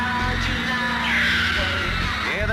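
Dense crowd of Beatles fans screams and yells continuously, a loud wall of shrieking voices with no pauses throughout.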